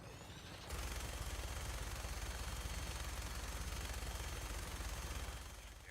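Gunfire in Fallout 4 during survival mode, heard as a rapid automatic burst that runs steadily for several seconds, fairly distant and even, then fades.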